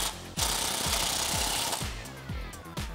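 Hand-tightening a Teraflex lift kit bolt on a Jeep Wrangler JK with a 12mm socket and wrench: a rapid, loud rhythmic clicking of a ratcheting socket, close by, repeating in bursts with brief pauses.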